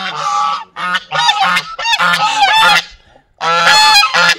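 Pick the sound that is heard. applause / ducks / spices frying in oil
ducks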